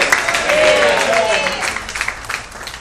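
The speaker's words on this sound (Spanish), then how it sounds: "Denle un aplauso fuerte." A church congregation applauds loudly during a sermon on prophetic end-time events, a dense, sustained wash of clapping that fades into scattered claps, with a preacher's voice blending in at the start.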